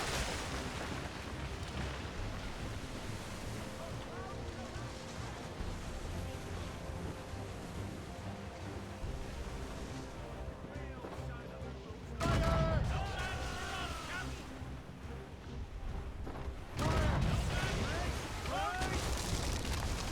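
Naval cannons aboard a Royal Navy sea battle in Assassin's Creed Rogue roar in a dense, rolling barrage, with sharper heavy blasts standing out near the end over constant rumbling surf and battle din.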